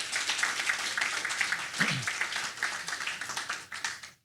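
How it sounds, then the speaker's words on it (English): A small audience at a startup demo day claps for the companies, a light patter of hands up close that swells briefly and then tapers away toward the end. "would you give these companies a round of applause for that accomplishment?"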